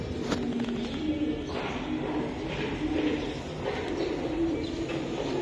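Red and black Fitki pigeons coo softly and repeatedly in a loft, low murmuring calls at moderate distance with faint rustling and shuffling.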